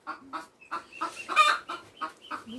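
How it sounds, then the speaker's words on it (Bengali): Chickens cluck close by in a flooded village home in Dhobaura, Mymensingh, giving a rapid run of short, rhythmic clucks with no talking. "মুরগি কোন জায়গায় উঠছে"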